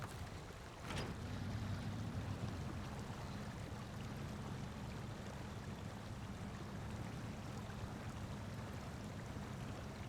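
A Fleet Star truck on race suspension is swept downstream in SnowRunner, with steady rushing river water and a low churning rumble filling the scene after a sharp splash at the start.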